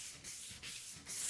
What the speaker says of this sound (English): we are going to take a little sandpaper to it before we get started